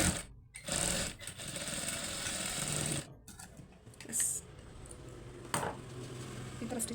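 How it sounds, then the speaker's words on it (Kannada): A sewing machine stitches piping onto an unlined blouse in bursts of rapid mechanical whirring, stopping and restarting several times, close and clear with no talk. "ಹಾಗಾಗಿ ನಾವು ಕ್ರಾಸಾಗಿ ಸ್ಟಿಚ್ ಮಾಡೋದಲ್ಲಿ"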